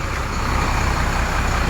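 A new Sinar Jaya bus, an Avante bodied coach, rumbling nearby with a steady, loud, low engine drone and road noise, alone without talk.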